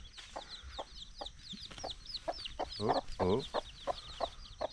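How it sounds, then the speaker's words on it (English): Chickens in a rural Philippine province setting, with young chicks peeping in rapid, high, repeated calls while adult hens cluck nearby; a brief exclamation from a person breaks in. "Not before looking at some little chicks."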